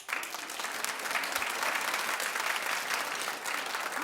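A studio audience on a daytime talk show claps steadily, a dense, sustained wash of applause rising quickly at the start and holding at an even level for several seconds.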